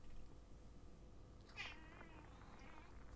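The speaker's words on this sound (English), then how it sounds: "This cat, this poor cat." A cat gives a single faint meow midway through, short and rising, heard alone over a quiet background hum.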